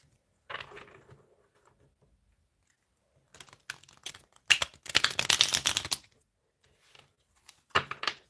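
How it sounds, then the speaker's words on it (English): Tarot cards are shuffled by hand in a quiet room: a short riffle, a pause, then a longer run of rapid, crisp papery flutters and a final brief burst, close and fairly soft. "Let's give the cards a good shuffle."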